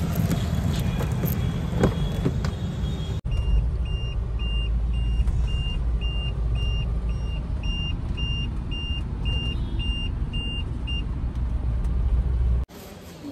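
Mahindra Scorpio being parked at a service center, with a steady pulsing reverse-warning beep repeating over a loud, close engine idle and low rumble for about eight seconds. No one speaks.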